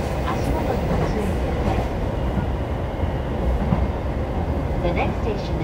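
A Tokaido Line commuter train runs between Fujisawa and Tokyo, heard from inside the car as a steady, loud rumble with rhythmic wheel clatter and faint squeals throughout.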